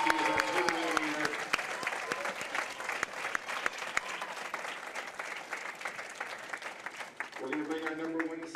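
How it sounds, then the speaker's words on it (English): At a junior bowling championship, the crowd gives sustained applause for the tournament winner, a crackling mass of claps with a voice speaking over it at the start and again at the end. "How about a round of applause for Keegan?"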